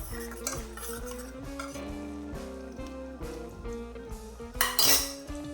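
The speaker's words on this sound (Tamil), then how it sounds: "கொஞ்சம் கிளறி" A wooden or metal spoon stirs Kerala-style ginger curry thickening in a pot, giving repeated scraping clinks against the pot's sides with a steady low background hum.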